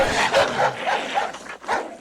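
Several dogs bark repeatedly in a quick, uneven series, loud and close, with some yelping mixed in, in the video game Metin2.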